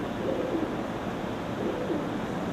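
Pigeons kept for competitive flying coo softly at close range, their low, rolling calls rising and falling over a steady background hum, with no one talking.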